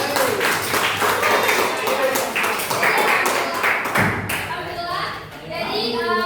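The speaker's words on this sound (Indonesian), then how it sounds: "tepuk tangan dulu untuk" A classroom group claps rhythmically in quick, even bursts, close and loud, with children's voices mixed in before the clapping fades.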